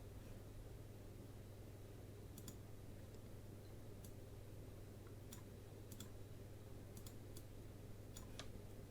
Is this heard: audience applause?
no